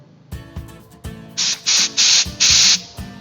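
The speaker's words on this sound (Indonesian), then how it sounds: "Dengan menggunakan air udara dari kompresor, kita semprot seperti ini." Compressed air from a workshop compressor sprayed over a battery during maintenance, four sharp hissing bursts of about half a second each, close and loud, after a few soft knocks and handling sounds.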